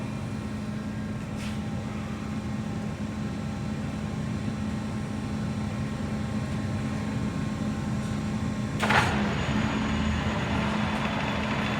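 A CIMA hydraulic gear hobbing machine moves its table in rapid traverse with a steady, even mechanical hum and drone, broken near the end by a short hissing burst, without anyone speaking.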